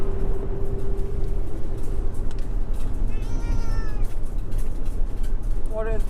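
Cats meow inside an RV on a road trip, a couple of short, faint mewing calls near the middle and end over a steady low engine and road rumble.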